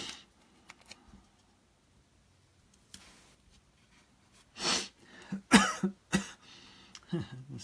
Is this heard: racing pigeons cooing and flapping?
no